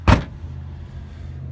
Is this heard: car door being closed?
yes